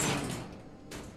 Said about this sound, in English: because it opens this door